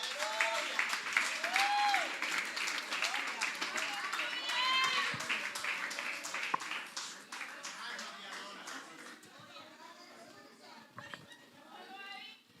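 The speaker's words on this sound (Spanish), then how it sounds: "Dele ese aplauso al Señor." A church congregation applauds, giving sustained, dense clapping that slowly fades, with voices and children's chatter mixed in.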